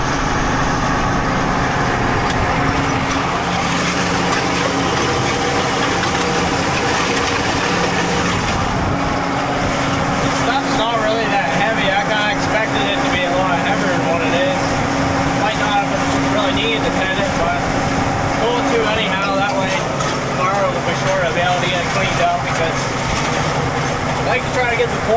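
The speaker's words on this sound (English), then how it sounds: "So we're setting the tedder down here." A tractor engine runs steadily at close range while a hay tedder is lowered to skim the hay, a continuous loud drone with shifting mechanical whine and rattle, no gaps.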